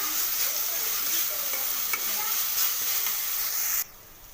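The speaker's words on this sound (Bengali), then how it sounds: "দেখুন এটাকে আমি ভালো করে কষিয়ে নিচ্ছি।" Ghugni, a spiced pea and potato curry, stirred and sautéed in a pan, giving a loud continuous sizzle and hiss with scraping stir strokes that cuts off sharply near the end.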